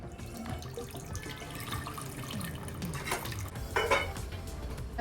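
Water is poured into a metal cooking pot for a hotel-style biryani in a home kitchen, a close splashing pour with light clinks of the vessel and a brief louder burst near the end.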